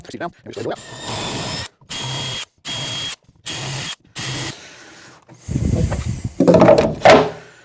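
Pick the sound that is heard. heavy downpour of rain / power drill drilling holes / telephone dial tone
power drill drilling holes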